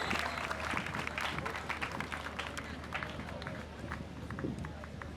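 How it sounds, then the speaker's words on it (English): Crowd applause at an outdoor Ghanaian government launch of a tree-planting reforestation initiative, a continuous distant clatter of many hands with a low hum underneath, steady and moderately faint. "Let's give him a huge round of applause."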